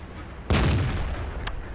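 A single loud video game artillery blast erupts suddenly, then rumbles and decays, followed by a brief sharp metallic click.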